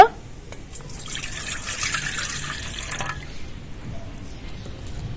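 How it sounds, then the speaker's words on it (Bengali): A bowl of milk pours into cake batter made with semolina, giving a soft, steady liquid splash and trickle for several seconds after a brief start, with no talk over it. "এইবার দুধ নিয়েছি এক বাটি এবার ঢেলে দেব"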